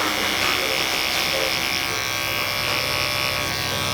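Detachable-blade barber clippers with an 08 blade buzz steadily and close during a high taper haircut, a continuous dense electric hum with no pauses across the whole stretch.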